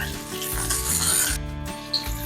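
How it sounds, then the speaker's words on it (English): Chicken breast halves sizzle in a frying pan with a bright, crackling hiss, and soft scraping or rubbing sounds from the cookware come through as well. "it's been about 2 minutes, sizzling away"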